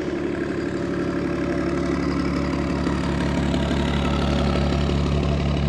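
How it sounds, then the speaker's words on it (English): A generator runs on a moored canal boat along a London canal on a cold day, giving a steady low mechanical hum and thrum that stays constant and fairly loud throughout, with no voices. "Must be using their generator to keep warm because it's pretty cold out here."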